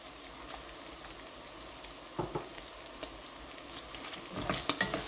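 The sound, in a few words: stirring mutton fry with pepper powder and curry leaves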